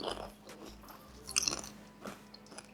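Close, crunchy bites and chewing as someone tastes Nigerian jollof rice still cooking in a pot, a few soft mouth sounds with a sharper crunch near the middle, quiet and without talk.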